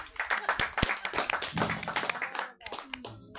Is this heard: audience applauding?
yes